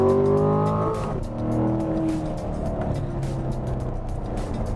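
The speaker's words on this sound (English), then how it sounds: "You'll hear the exhaust will be a little bit louder" A stock 2016 C7 Corvette in track mode accelerates hard from about 27 mph in first gear, its loud exhaust rising steadily in pitch as revs climb, close and continuous with no talking.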